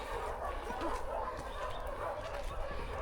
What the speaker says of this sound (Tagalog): Puro aso na naririnig.